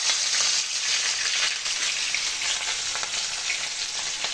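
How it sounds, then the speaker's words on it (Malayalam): Crushed garlic and ginger fry in hot oil while tempering a beef curry, a steady dense sizzle close by and continuous, with no talking. "ആദ്യം വെളുത്തുള്ളിയും ഇഞ്ചിയും ചതച്ചതിട്ട് കൊടുക്കാം."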